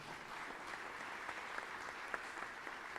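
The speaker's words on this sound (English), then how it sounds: "You've won over the crowd, Jennifer." An audience applauds a speaker at a talk on child welfare, steady faint clapping from a room full of people, continuous and even for a few seconds.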